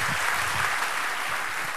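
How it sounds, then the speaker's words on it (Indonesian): An audience applauds at a religious sermon event, dense steady clapping filling the short stretch at an even level with no voices over it. "Tepuk tangan untuk ibu kita."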